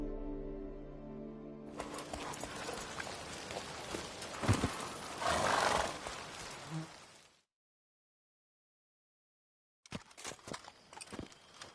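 Roach the horse in The Witcher 3, hooves clip-clopping steadily at close range, a brief gap of silence, then more hoof sounds, with music running underneath and no whinny standing out clearly.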